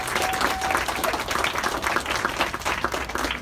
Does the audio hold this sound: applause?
yes